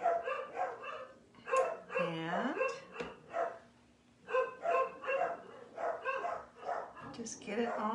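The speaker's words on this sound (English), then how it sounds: "Sorry about the dogs barking." Dogs bark and yip in repeated rhythmic bursts close by in a home workshop while someone talks over them during a silk screen project, with a steady low hum underneath.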